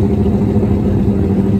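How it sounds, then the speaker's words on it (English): A Suzuki GSXR 1000 drag racing motorcycle, stretched, runs its engine loud and close, a dense steady growl with no pauses over the brief moment. "GSXR 1000 makes about 140 horsepower stock, light bike"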